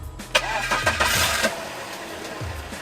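A BMW 318i E46 engine cranks briefly and catches on the first try, then settles into a smooth, steady idle heard up close.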